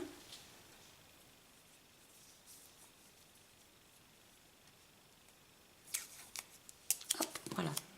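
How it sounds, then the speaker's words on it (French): Masking tape torn from a roll and pressed onto paper for a Stampin' Up! card: quiet at first, then a burst of sharp ripping and crinkling tears near the end, close and fairly loud. "je vais mettre un petit peu de masking tape pour éviter qu'il bouge en le passant dans la Big Shot"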